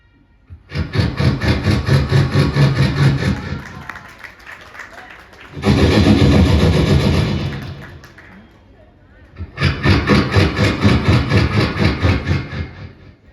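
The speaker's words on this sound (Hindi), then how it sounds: "देखिए ट्रेन प्लेटफॉर्म पर खड़ी है और डीजल इंजन क्या मूवमेंट कर रहा है, सुनिए।" Diesel locomotive engine working while the train stands at a platform in Bisauli, Badaun; loud, throbbing chugging comes in three long bursts separated by quieter lulls.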